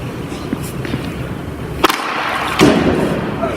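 A hockey stick strikes a shot off the rink surface: two sharp cracks about a second apart over steady background rumble, close and fairly loud.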